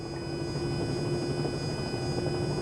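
An aircraft engine in Microsoft Flight Simulator 2020 runs at low RPM as a steady, droning hum with constant tonal buzzing, even and unbroken throughout.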